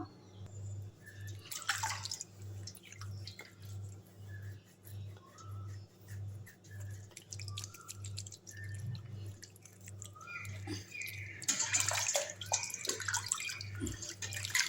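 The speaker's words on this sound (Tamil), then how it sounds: "இப்போ வந்து இந்த கையை வந்து கழுவிடலாம்." Hands being rinsed under running water at home, with splashing bursts near the start and again toward the end over a steady low hum and scattered drips.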